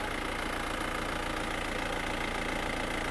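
A car engine with suspected blow-by runs at a steady idle, a constant close mechanical drone with a faint rhythmic knock and no voices.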